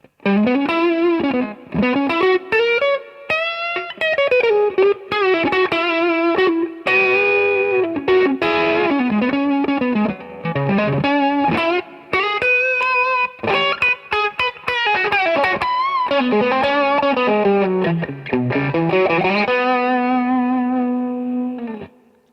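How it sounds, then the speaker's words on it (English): Electric guitar through a Tube Screamer overdrive pedal into a Roland Blues Cube Artist amp's clean channel plays a flowing lead line, sustained notes gliding and bending with warm, gritty distortion, close and loud with short gaps between phrases. "And this is the tube screamer."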